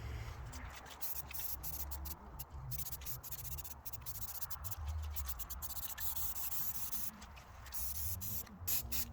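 A steady, loud hiss of a spray gun spraying paint on a V8 CJ5 Jeep under restoration, continuous and close, with faint rubbing texture and no voices.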